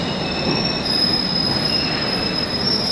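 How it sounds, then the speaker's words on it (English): A London Underground train rushes through Moorgate station without stopping, a loud continuous roar with high, steady wheel squeal ringing over it. "there's an express train that's not stopping here"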